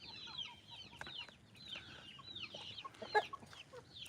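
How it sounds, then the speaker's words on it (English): Hens cluck and chirp in a farm coop holding a nest full of eggs, with repeated short calls scattered throughout at moderate distance and no talk. "I put all hens over here with a nest full of eggs."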